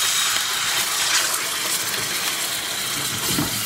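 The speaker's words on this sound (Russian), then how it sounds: "Сейчас я высыпаю печень." Raw liver, still a little wet, tipped from a container into a cooking pan, giving a steady wet splashing, sliding rush that stays loud and close for the whole stretch.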